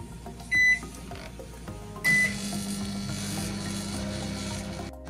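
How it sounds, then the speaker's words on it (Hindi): A Panasonic microwave oven heats desi ghee: two short electronic beeps, then a steady, close, moderately loud hum with a low drone running for several seconds before a click near the end. "अब हम इसे करेंगे गरम माइक्रोवेव में, अपने पैनासोनिक माइक्रोवेव में करेंगे हम इसे गरम अब एक मिनट के लिए।"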